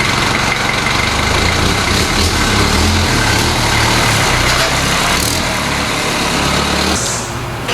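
A 1988 right-hand-drive Toyota Land Cruiser engine drones steadily while driving, a loud, continuous rumble heard from inside, easing slightly near the end.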